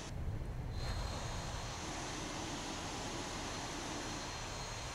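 Simulated Boeing 737-800 jet engines in X-Plane 11 make a steady, continuous roar with a faint high whine above it, holding at an even level throughout with no talking.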